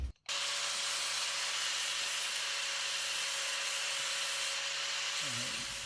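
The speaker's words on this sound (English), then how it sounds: "now I'm just going to take my grinder and just kind of face it off and make sure it's good and flat" An angle grinder faces off a part flat during transmission line work on a 1966 Ford Bronco restoration, giving a steady, loud, continuous whine and rasp that holds for about five seconds after a brief start, then winds down at the end.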